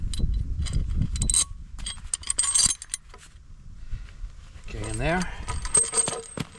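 A metal washer and bolt clinking during a derelict cottage repair job: close, bright metallic jingles and small taps in short clusters, with a voice speaking briefly over the quieter second half.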